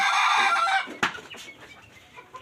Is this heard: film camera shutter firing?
no